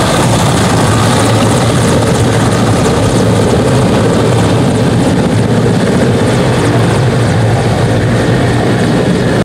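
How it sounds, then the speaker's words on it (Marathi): An army helicopter arrives and sets down on a sports ground, its loud, close rotor roar and engine drone continuous and overwhelming throughout. "सकाळी 11 वाजण्याच्या सुमारास लष्कराच्या हेलिकॉप्टरमधून पंतप्रधान नरेंद्र मोदी यांचं होम मैदानावर आगमन झालं"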